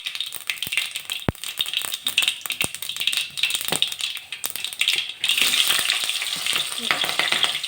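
Mustard seeds and cumin sputter in hot oil for a hotel-style mandakki usli, a dense steady sizzle broken by sharp popping crackles, close and loud with no voices.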